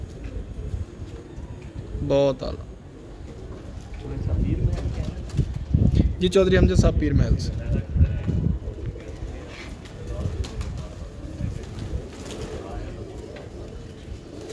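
Racing pigeon cooing softly in a loft, a few low throaty coos under steady nearby talk by men, with light background noise throughout.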